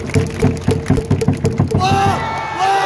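A baseball stadium crowd in Gocheok Sky Dome claps in unison to a steady rhythmic beat, then breaks into loud, sustained cheering and whooping; voices chant along with the clapping.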